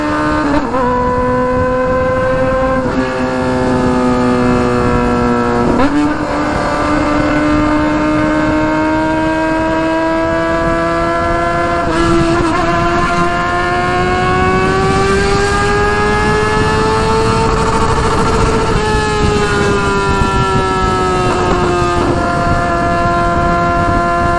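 A Honda Hornet motorcycle with a straight 4-into-1 exhaust runs on a highway, its loud, sustained engine drone alone in the foreground and stepping in pitch several times as it shifts gears.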